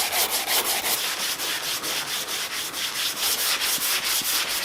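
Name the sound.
block sanding primed car bumper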